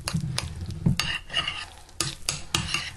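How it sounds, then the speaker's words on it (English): A spoon stirs applesauce into a pot of cream of wheat, making close, soft scraping and clinking against the pan in several short repeated strokes. "The only other thing that I'm going to put in here is a couple of tablespoons of applesauce. And I'm going to stir that up."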